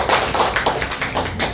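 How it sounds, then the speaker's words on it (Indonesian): A small group claps together in a classroom setting, a short burst of brisk, slightly uneven hand claps, close and fairly loud with no talking over it. "tepuk tangan buat kita semua"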